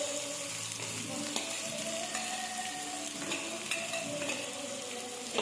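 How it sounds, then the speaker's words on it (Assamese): Onions sizzle in hot oil in a pan while Maggi noodles are being cooked, a steady frying crackle with occasional stirring and small clinks. "পিঁয়াজখিনি ভাজি লৈছে।"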